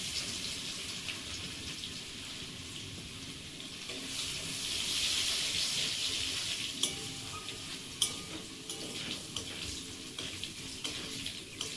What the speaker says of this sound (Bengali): তেল গরম হয়েছে আর দেবো থেঁতো করা রসুন